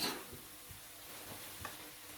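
Catfish with dried chili, oyster sauce, seasoning sauce and fish sauce sizzles quietly in a pan while being stir-fried, with a few soft scraping strokes of the spatula.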